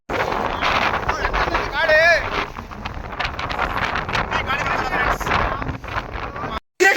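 Strong wind roars and buffets a microphone high up in a dangerous spot during a storm. It gusts loudly and steadily for several seconds, with whistling surges, then cuts out briefly near the end.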